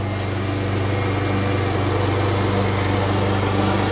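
A Yamaha MA 190 self-propelled lawn mower engine runs steadily and loudly, a constant droning hum with no pauses.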